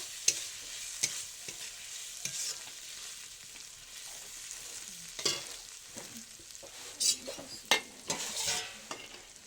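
Fried minced meat stirred into frying carrots and beans for mixed rice, with irregular bursts of spoon scraping and clatter over a quiet, steady sizzle. No one speaks.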